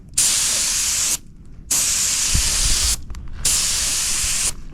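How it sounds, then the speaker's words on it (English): A mini paint gun sprays pearl paint onto a car in three long, steady hissing passes, close and loud, with short quiet gaps between them. "This will be the first time I spray any pearl through our mini paint gun here."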